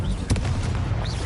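Confringo spell blast in the video game Hogwarts Legacy, a quick booming explosion with a deep low thump and short crackling tail, loud and close amid other game effects.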